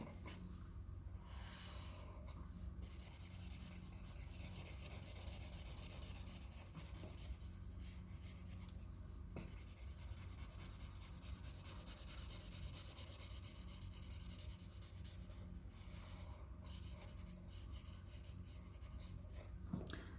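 A felt pen rubbed and scratched across paper while colouring, a continuous close, soft scratchy scrubbing with brief pauses between strokes.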